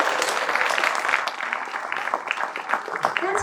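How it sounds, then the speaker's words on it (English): An audience at an afternoon speech-contest session claps for itself, a dense patter of hands lasting several seconds with some voices mixed in. "Can we clap for ourselves once again?"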